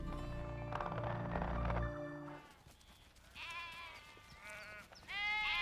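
Sheep bleat in a cluster of overlapping calls, a low rumble first and then several high wavering bleats close by.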